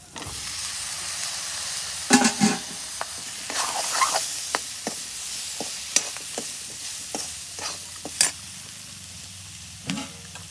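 Steady sizzling of spices frying as raw green plantain is added, with repeated scraping and clattering of a spoon stirring in the pan, irregular knocks spread across the sizzle.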